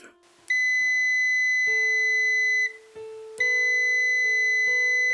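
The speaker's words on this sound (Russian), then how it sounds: "Прозвон тут организован очень хорошо." Loud, clean electronic beeps from a UNI-T UT204+ clamp multimeter on continuity test, several sustained tones in sequence with brief gaps, close and alone.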